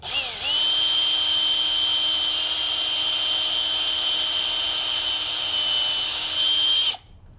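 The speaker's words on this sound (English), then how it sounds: "So I've got a 5/16 bit in the drill. I'm just going to drill this hole out and make it a little bigger." A power drill fitted with a 5/16 bit enlarging an existing hole, a loud, steady high whine held for about six and a half seconds before cutting off abruptly.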